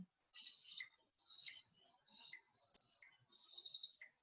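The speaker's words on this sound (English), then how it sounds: "That was the sound of the bush frog." Canopy bush frog calling in a Western Ghats forest: a series of bright, high chirping trills in several bursts, fairly faint with quiet gaps between calls and no talk.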